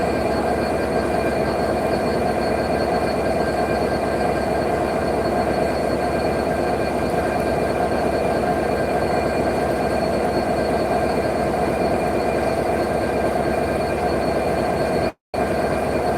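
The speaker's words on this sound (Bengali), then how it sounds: "ট্রেনটি এখনই ছেড়ে দেবে" Steady, loud rumble and hum of a Khulna-to-Dhaka train standing at the station before departure, continuous throughout with a brief dropout near the end and no talking.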